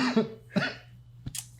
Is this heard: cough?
yes